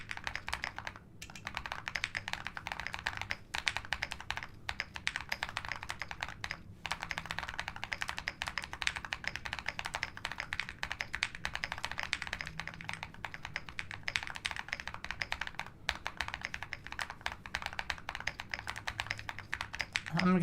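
Rapid typing on a computer keyboard, a dense continuous clatter of key taps close by for the whole stretch, without pauses.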